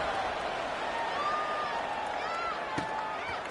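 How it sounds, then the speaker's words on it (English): Stadium crowd at a Temple versus Tulane college football game, a steady distant murmur and roar of many voices with faint cheering, under a broadcast commentator talking. "this crowd is buzzing after that last score"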